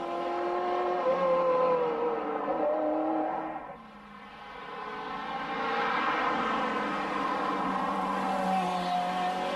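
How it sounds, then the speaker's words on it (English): A Ferrari F355 GTS engine warming up at the Isle of Man, a steady mid-range drone that dips briefly in the middle before swelling again, heard from a moderate distance with no talk. "Ed Stratton in the new F355 GTS"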